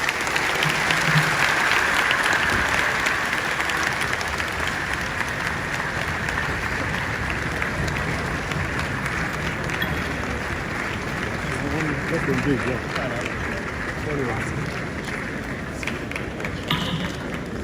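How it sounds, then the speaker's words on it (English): Large conference audience at an NBA Conference in Enugu State gives long, steady applause after a speech, dense clapping with crowd murmur and a few thumps throughout. "Can we give another round of applause to the Sultan of Sokoto?"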